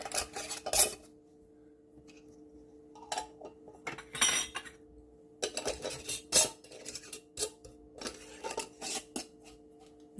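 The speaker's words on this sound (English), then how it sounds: "Now what I'm going to do is I'm just going to put my lids on." Lids are fitted onto small containers of purple dead nettle healing balm, giving a series of clinks, taps and scrapes in irregular bursts with quiet gaps between, fairly close and with no talking.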